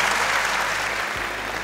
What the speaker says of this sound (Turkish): Alkışlarla uğurluyoruz şimdilik.